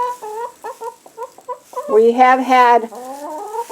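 Hens in a two-sided backyard chicken house cluck close by in quick, clipped bursts that build into a louder drawn-out squawking call, with a person talking briefly at the same time.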